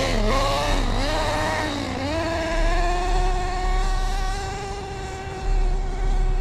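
A Redcat Earthquake nitro RC car engine revs in a high, buzzy whine that climbs in pitch twice, then holds a steady, loud, continuous drone outdoors with no talking.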